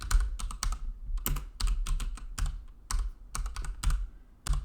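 Typing on a computer keyboard, a quiet run of irregular clicks with brief pauses, close to the microphone and heard alone without talk.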